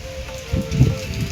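Rain falling at a rural temple grounds, a short, dense patter of drops on surfaces with a low rumble underneath, steady and fairly close.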